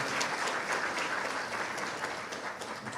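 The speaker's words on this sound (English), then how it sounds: "Give her a big round of applause." An audience at an evening event applauds a guest, a thick, continuous roar of clapping from a large crowd, loud and sustained with no voices breaking through.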